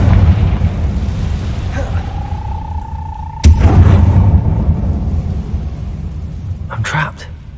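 A Confringo spell explodes in the Hogwarts Legacy video game as one sharp, loud blast midway over a low rumbling bed, with a short ringing tone before it and another brief burst near the end.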